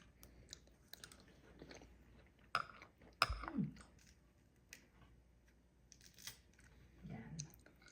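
Someone chews a crunchy, freshly picked donut peach dipped in bagoong shrimp paste, with soft close-up bites and a few sharper crunches over faint background noise.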